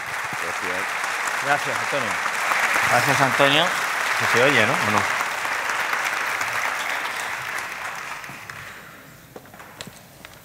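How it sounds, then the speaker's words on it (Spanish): Steady crowd applause for two doctors at a Spanish conference talk, broad and continuous, with someone speaking over it before the clapping thins out near the end. "Un aplauso."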